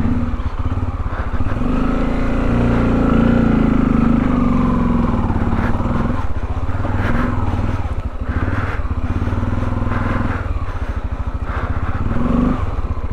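Motor vehicle engine running in freezing cold weather, a loud steady rumble with uneven revving and clattering swells throughout, close by.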